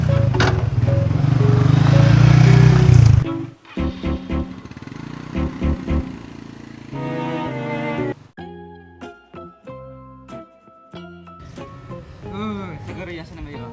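A motorcycle engine roars loud and close for about three seconds during a Sundanese comedy ride, then cuts off and gives way to voices talking and music.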